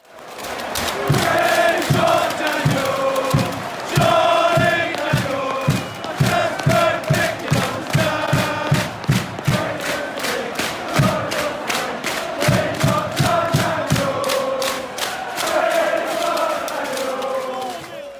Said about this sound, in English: we've got a clip of the crowd singing his name that I'm just going to play now